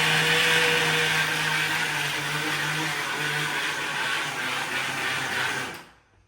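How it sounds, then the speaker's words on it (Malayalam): A mixer grinder whirring steadily as it blends maida and egg for porotta dough, a loud, even motor drone for about six seconds that cuts off abruptly near the end, with no talking. "മിക്സി അടിക്കുന്നു ആ സൗണ്ട്."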